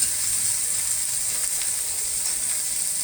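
Onion and garlic frying in oil with whole tempering spices while cooking palak paneer, a steady, even sizzle that holds at the same level throughout with no voices.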